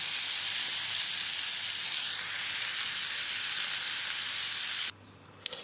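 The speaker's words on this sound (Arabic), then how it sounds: "قلينا السمك بتاعنا وطبخنا الرز" Seasoned fish sizzles steadily in hot oil, a dense, loud frying hiss that holds for about five seconds before cutting out, followed by a brief clatter.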